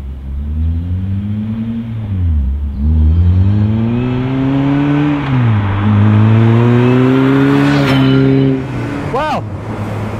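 Supercharged engine of an Ariel Nomad warming up, loud and close, with a steady droning tone that rises and dips as the revs swell and ease, plus a whine above it.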